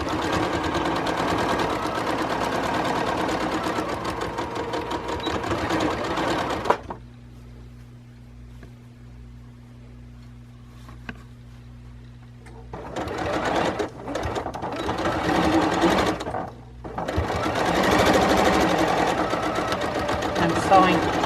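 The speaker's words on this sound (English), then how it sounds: "I'm sewing close to the edge of the fold." A sewing machine stitches close to the fold edge of a face mask in rapid, steady bursts, stopping for a quiet pause in the middle and then starting again, with a person talking at times.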